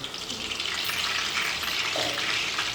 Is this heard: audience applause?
no